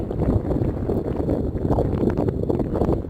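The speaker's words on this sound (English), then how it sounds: "The wind's really blowing out." Strong desert wind roars and buffets steadily against the microphone, a loud, continuous low rumble with gusty fluctuations and no talking.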